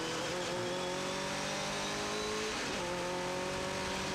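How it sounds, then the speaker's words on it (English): TVR Tuscan race cars battle on track at Donington Park, a steady engine drone with tones that rise and shift as cars pass, moderately distant and continuous without speech. "Tim Hood still battling there with the Ben Samuelson car ahead of him"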